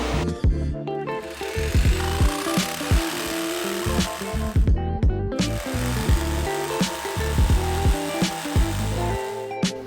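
Power tool cutting an FRP fiberglass shower panel inside a 2021 Ford Transit van, a loud continuous buzzing cut with rapid chattering pulses, briefly stopping and then resuming.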